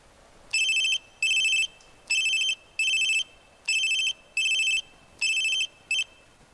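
A telephone rings in a steady pattern of about eight short electronic bursts with even gaps between them, fairly loud and with no talk over it.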